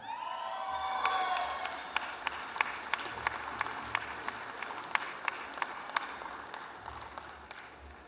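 Applause and light cheering for graduates at a business school MBA commencement, a broad crowd sound with sharp individual claps standing out, fairly distant and gradually fading.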